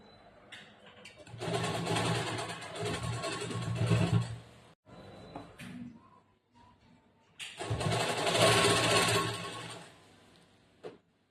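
A sewing machine stitches a blouse in two long, steady runs separated by a pause, each burst a close, continuous mechanical whirr.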